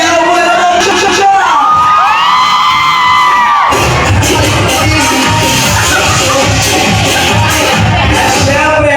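A crowd of fans cheers, whoops and yells loudly at a meet and greet, sustained and close, with a voice talking over it at the start.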